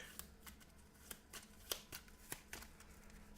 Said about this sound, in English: And I'm assuming we shuffle our deck.